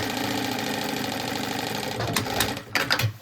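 A sewing machine stitches the seams of a drawstring backpack, running steadily and close for about two seconds before stopping, followed by a few short bursts and handling clatter.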